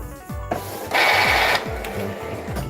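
An Epson L121 inkjet printer prints a nozzle check pattern: a rhythmic mechanical ticking and ratcheting of the carriage and gears, broken by a louder steady whirring burst partway through, close and clear with no speech.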